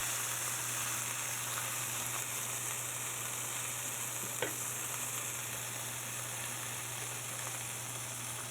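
Burgers made from pork rib trimmings frying on a grill, a continuous close sizzle and hiss with a single faint tick partway through and no talking.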